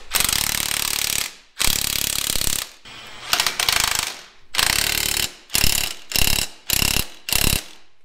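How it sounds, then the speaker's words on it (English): A hand ratchet tightens the link bolts on a Jeep, several bursts of rapid clicking separated by short pauses, the later strokes shorter and choppier, close and loud with no speech. "Let's come tighten up the link bolts."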